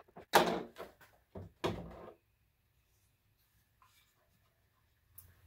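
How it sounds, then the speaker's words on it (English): A small screwdriver carefully pries a telescope's mirror cell out of its box: a few sharp close scrapes and knocks in the first two seconds, then near silence with one faint tap at the end. "I usually have to use a small screwdriver to carefully pry it out of the telescope box"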